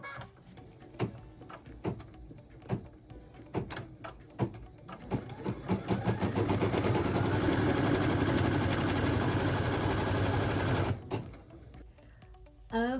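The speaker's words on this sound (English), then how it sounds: "Then we'll put it in the machine and stitch it." A sewing machine stitching a quilt block: a few separate clunks, then a steady fast whirring run of stitches for several seconds, close and loud, stopping and then a last thump.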